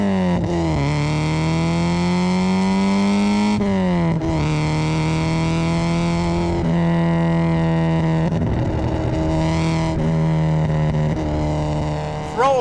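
Alfa Romeo 33 1.7 Green Cloverleaf with an 8-valve flat-four engine accelerating hard from inside the car, revs climbing in long sweeps through several gear changes, each shift marked by a brief drop in pitch.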